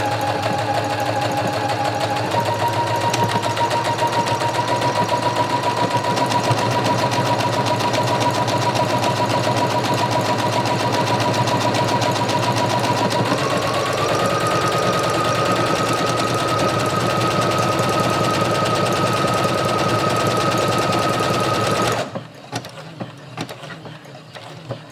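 A Brother CS6000i computer sewing machine stitches a buttonhole in a loud, continuous whirring run with a steady pitch that steps up twice, then cuts off near the end, leaving a few faint clicks.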